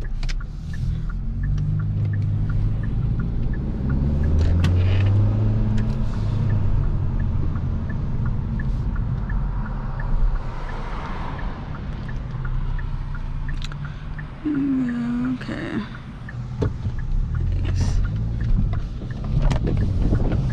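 2022 Kia Forte GT Limited with a 7-speed DCT, driven in normal mode and heard from inside the cabin: a steady engine drone with road rumble and some wind noise, rising and easing through gear changes over about twenty seconds.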